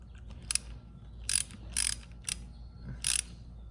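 Ratchet wrench on the oil drain bolts of a KTM 790 Adventure, clicking in five short bursts of rapid ratcheting, close and crisp, separated by brief pauses.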